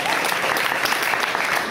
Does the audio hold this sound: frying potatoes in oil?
no